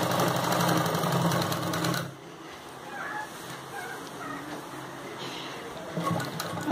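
A sewing machine stitches falls onto a saree, its fast mechanical whir running loud at first, then dropping to a quieter, steady chatter with faint ticks.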